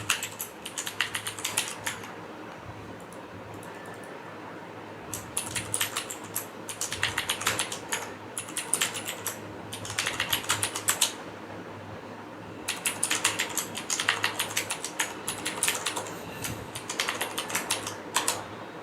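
Someone types a password on a computer keyboard, with bursts of quick, close key clicks broken by short pauses and a faint fan hum underneath.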